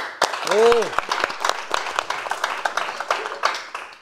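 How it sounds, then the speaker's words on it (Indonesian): Scattered clapping from a comedy roast audience, uneven and moderately loud, with a brief whooping voice near the start. "Boleh tepuk tangannya."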